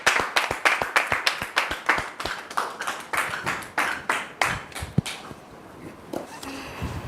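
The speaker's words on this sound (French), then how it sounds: "Merci beaucoup de recevoir notre sœur sous vos applaudissements." A few people in a church gathering clap rhythmically to welcome a guest, crisp individual claps in a fairly steady beat that thin out and fade toward the end.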